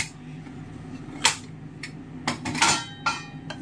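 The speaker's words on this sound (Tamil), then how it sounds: "குக்கரை திறந்து பார்க்கலாம்." A few sharp metallic clanks and clicks as a pressure cooker lid is opened, one louder clatter near the middle and a cluster of knocks toward the end, over a low steady hum.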